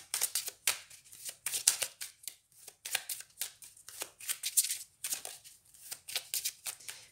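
Cards from a Lenormand flower oracle deck are shuffled and handled before one is drawn. Soft, rapid riffling and sliding comes in repeated close bursts with short pauses, with no speech.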